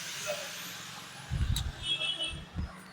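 Road traffic picked up through a budget wireless microphone: a steady wash of street noise and hiss with a low rumble from passing vehicles that swells a couple of times, plus a faint high squeal.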